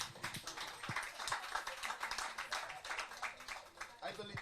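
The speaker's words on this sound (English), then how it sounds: "Give her a round of applause" A live audience applauds at an afternoon event honouring a vocal artist, a steady dense wash of clapping from many hands that continues throughout.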